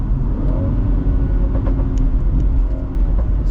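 A remapped 2017 BMW 440i Gran Coupe's exhaust rumbles low and steady up close, with several sharp pops and crackles scattered through the throaty drone.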